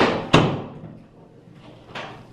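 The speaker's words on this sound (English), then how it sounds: "You locked the door?" A bathroom door shuts with one sharp, close slam, followed a moment later by a softer click as it is locked, in a quiet room.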